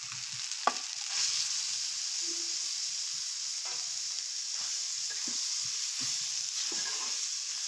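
Beef tripe and potatoes frying in a pan, an even, close hiss of sizzling with occasional soft stirring taps.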